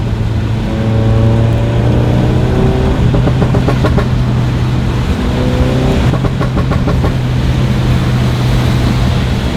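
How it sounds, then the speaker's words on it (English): A VW Mk7 GTI with an EQT Stage 2 tune revs through the gears, its tuned exhaust crackling in bursts of burbles over a steady, loud in-cabin engine drone. "Here come the burbles."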